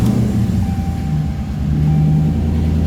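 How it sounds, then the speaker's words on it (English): A car engine idles steadily with a low, continuous rumble and a faint tonal whine, a leaking exhaust at the muffler adding a rough, even undertone throughout. "So I hear an exhaust leak."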